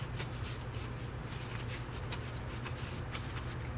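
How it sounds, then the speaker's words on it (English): Paper towels are pulled and handled at a sink while cleaning up during a haircut, a continuous dry rustling and crinkling with quick papery flicks over a steady low hum, and no talking. "Use a clean paper towel."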